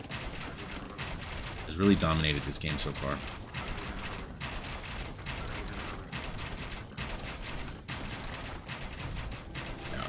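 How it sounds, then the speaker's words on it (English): Bombard cannons fire in an Age of Empires 2v2 tournament match for the Ethiopians, with booming shots and clattering battle noise running steadily under a commentator's voice. "Bombard cannons on the field here for Ethiopian Spire."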